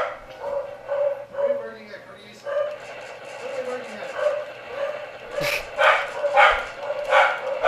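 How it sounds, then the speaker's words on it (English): Corgis bark repeatedly nearby, with short yips scattered through the clip, while people talk over them. "What the corgis are barking at is a mystery not so easily solved."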